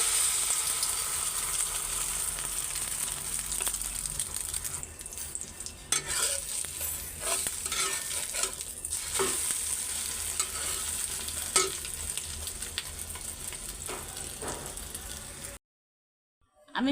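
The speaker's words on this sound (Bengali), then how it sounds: "রুটি ভাজা শেষ, এখন ডিমটাও ভাজা নেই।" An egg fries in a pan with a continuous soft sizzle, broken by intermittent scraping and stirring clicks, close and steady until it cuts to silence just before the end.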